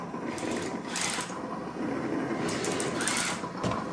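Smoke generator running inside a WPL E1 RC truck gives a steady, close buzzing whir with a faint mechanical pulse, heard alone with no voices.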